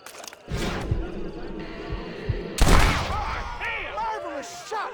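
Gunfire in the Western video game Red Dead Redemption, with loud shots and rapid bursts over game sound effects and a short whistling tone, mixed with other effects throughout the five seconds.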